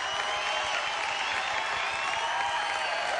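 A late-night television studio audience in 1988 breaks into steady, dense applause that fills the room continuously, loud and close, with no voices over it.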